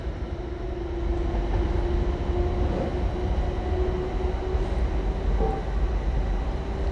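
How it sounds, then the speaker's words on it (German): A regional train approaches Braunschweig main station at night, heard as a steady, moderately loud rumble and hum that swells slightly and holds across the platform. "Irgendwas kommt hier von vorne, wahrscheinlich irgendeine Regionalbahn, Regionalexpress."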